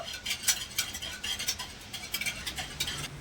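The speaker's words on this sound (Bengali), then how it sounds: "একটা হুইস দিয়ে মিশিয়ে নেব ভালো করে নেড়ে চেড়ে চিনিটা গলিয়ে নেবো" A whisk beats rapidly through milk in a bowl to dissolve sugar for a flattened rice dessert, producing quick, rhythmic clinking strokes that stay close and steady.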